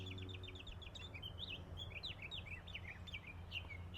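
A songbird sings in a Florida pentas garden, repeated high chirping and warbled phrases running steadily over a low background hum, fairly close and clear with no talking.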